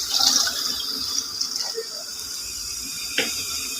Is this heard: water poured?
yes